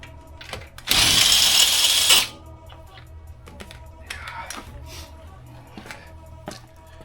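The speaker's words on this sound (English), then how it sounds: "Impact gun." An impact gun removes wheel nuts from a Ford Focus-style Sonic RS on a jacked-up car, a single loud rattling burst of about a second and a half, then quiet clicks and faint workshop noise.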